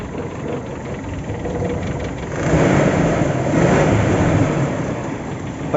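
A motorcycle engine idles steadily with a faulty spark plug or coil cable, then the revs rise into a louder, rougher drone that holds before easing slightly; any ticking is buried in the engine noise.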